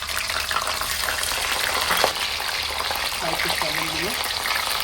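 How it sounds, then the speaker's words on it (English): French fries frying in hot oil, a steady close sizzle and bubbling that runs throughout, with a voice talking over it. "here I make already hot oil for frying our french fries"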